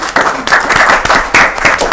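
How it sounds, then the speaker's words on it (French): A debate audience claps, with dense applause whose loudness surges in rhythmic waves over two seconds, heard close and filling the room. "je pense qu'on va applaudir déjà par rapport à la première partie."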